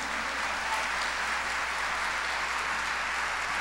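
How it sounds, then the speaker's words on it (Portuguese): A church congregation applauds during a service, a soft, even wash of many hands clapping, faint and distant, sustained throughout with no voices standing out. "Vamos aplaudir Jesus, irmãos"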